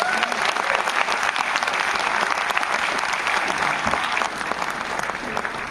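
Sustained applause from a large audience at a motivational session, dense and steady clapping throughout with a slight easing near the end.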